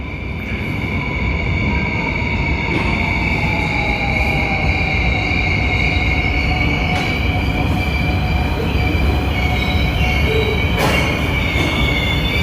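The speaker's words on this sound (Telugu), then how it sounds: "ఇక్కడ చూడండి, మెట్రో ట్రైన్ అనేది ఇప్పుడు వస్తూ ఉంది." A Seoul metro train pulls into an underground station, its wheels squealing in sustained high tones over a steady rumble of rail noise that stays loud and continuous throughout.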